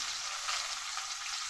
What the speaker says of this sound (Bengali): ওই কড়ার তেলেই অল্প দিয়ে দেবো কালো জিরা, তার সাথে দিয়ে দেবো দুটো কাঁচা লঙ্কা, তার সাথে দিয়ে দেবো কুচিয়ে রাখা পেঁয়াজ